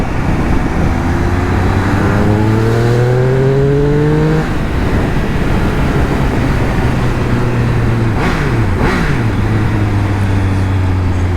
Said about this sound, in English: Let's put it on sport and let's give it some throttle.